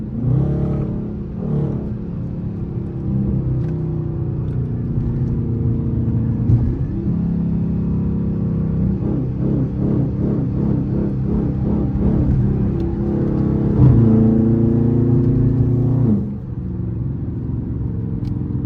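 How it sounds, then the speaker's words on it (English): A Dodge Charger R/T engine revs loudly and repeatedly, a deep rumbling roar that rises and falls in bursts, heard up close with no talking. "a lot of y'all just like to hear my engine"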